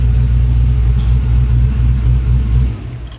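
A car engine rumbles steadily at a low, even pitch during a test drive with a Vintage Air AC system fitted, and the sound drops off sharply near the end.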